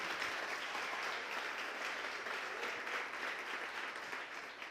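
A church congregation applauds during a sermon, steady continuous clapping from a crowd, moderately distant and fairly soft throughout.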